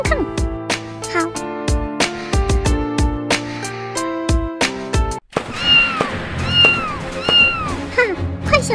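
A cartoon cat meows repeatedly in short, clear cries over a plucky musical backing with percussive hits, the meows growing more insistent in the second half, close and prominent.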